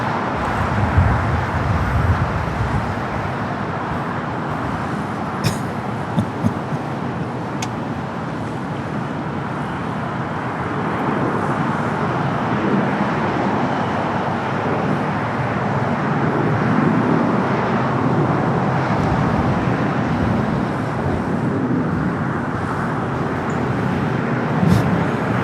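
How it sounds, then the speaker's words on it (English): A Frontier Airbus A320neo pushes back and moves toward taxi at LAX, heard as a steady, fairly loud rumble and whine of engines and airport ground noise from a distance, with no voices. "Frontier A320 Neo should be starting its taxi here shortly."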